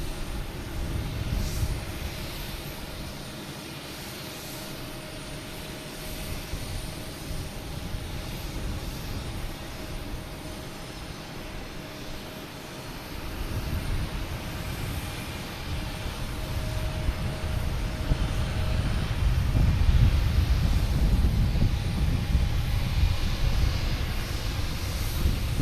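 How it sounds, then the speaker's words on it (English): An American Airlines A320 coming in to land at Boston Logan Airport, a broad jet roar heard from a distance that slowly builds louder toward the end, with a faint tonal whine near the start. "we have an American Airlines A320 coming in from Charlotte."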